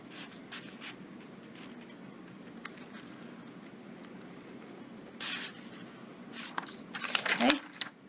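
A pen scratching a line across graph paper, light intermittent scraping strokes close by, with a louder rubbing stroke near the end and quiet talk in the background.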